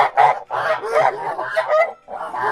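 A flock of Kholmogory geese honks nearby in overlapping, nasal calls, loud and continuous with brief pauses.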